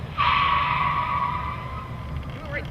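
A car brakes hard with ABS, tires squealing loudly for about a second before fading, with a faint pulsing judder toward the end.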